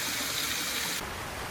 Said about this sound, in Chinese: 這是公園裡隱藏的小溪與瀑布